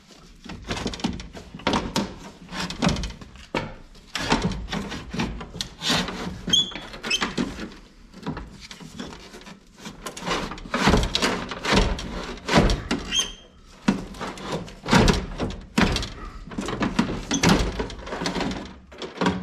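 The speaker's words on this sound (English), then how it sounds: "We're just going to slide that right on out of there, leaving the glass in the door for now." A window regulator is worked out of a truck door with the glass left in, giving repeated hollow metallic thunks, clunks and scraping knocks in irregular bursts, fairly close and alone.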